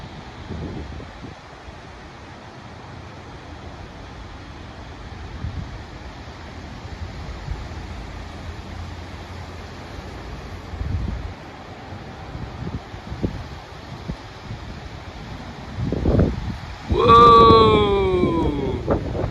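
Seventy-mph wind gusts from a dust storm in Pullman, Washington roar and buffet the microphone in a steady, loud rush that swells toward the end, where a voice briefly exclaims.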